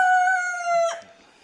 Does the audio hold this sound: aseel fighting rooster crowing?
yes